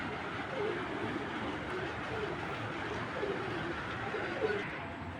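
Pigeons, including a hen, coo softly and repeatedly at a modest distance over faint background noise.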